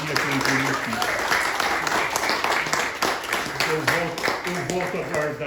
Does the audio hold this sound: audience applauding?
yes